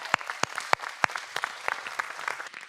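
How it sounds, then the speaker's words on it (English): Scattered clapping from a school audience at a leadership academy talks event, a few sharp loud claps up front followed by lighter, thinning applause. "Thanks for the applause."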